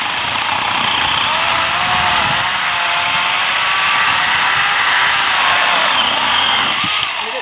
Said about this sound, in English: that'd be a nice little saw for camping and cutting up some quick firewood